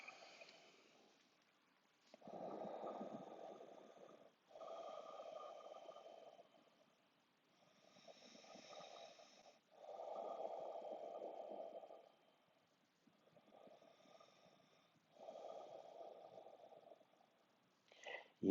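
Slow, deep breaths taken while holding a yoga pose, soft airy inhales and exhales in long separated swells of a couple of seconds each, close and quiet with pauses between.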